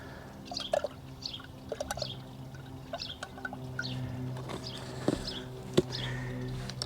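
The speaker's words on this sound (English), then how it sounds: "And give it a good stir. I'm using a bamboo cane." A bamboo cane stirs liquid plant feed into water in a garden container, producing soft intermittent sloshes and light knocks at close range with no talk, over a steady low background hum.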